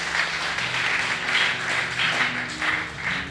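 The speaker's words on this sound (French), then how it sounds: "Est-ce qu'on peut acclamer pour la parole?" A church congregation breaks into sustained applause, a steady wash of many hands clapping in a room, fairly loud and even throughout.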